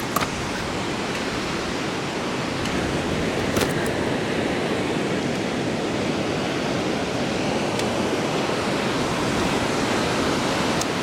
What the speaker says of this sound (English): So the beach tides are quite rough, as you can see.